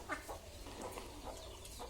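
Faint, scattered clucking from a few chickens kept with ducks at a house in Assam drifts in from a distance over low background hum.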